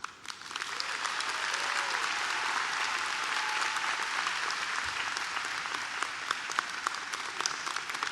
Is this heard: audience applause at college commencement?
yes